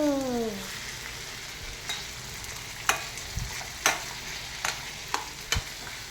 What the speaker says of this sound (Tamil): மாங்காவை நல்லா 2 minutes வதக்கிக்கணும்